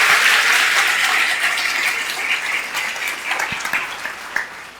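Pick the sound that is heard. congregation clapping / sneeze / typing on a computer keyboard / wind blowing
congregation clapping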